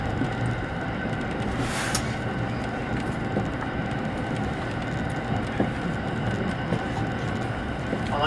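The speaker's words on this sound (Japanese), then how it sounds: "列車あと4分ほどで米原に到着です。" A JR 683-series 2000 limited express train rumbles steadily along the rails approaching Maibara, a continuous low roar with faint rhythmic clicks, heard from inside a carriage.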